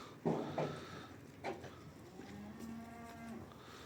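Calves moo at a livestock market in Barda, with several loud, drawn-out lowing calls near and farther off over a low bustle of background noise.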